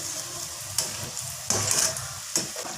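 Zinger fries sizzle and crackle in hot oil, a steady close frying hiss broken by a few louder bursts as they are stirred.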